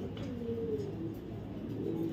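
A racing pigeon in a loft coos softly, giving a low, rolling call that repeats twice at close range against a steady background hum.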